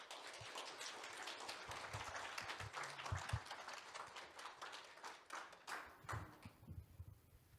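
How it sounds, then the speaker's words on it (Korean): A church congregation claps steadily to welcome the pastor at a Sunday worship service, a dense roomful of applause that carries on for several seconds before thinning out. "우리 목사님 나오실 때 우리 박수로 이렇게 환영했으면 좋겠습니다."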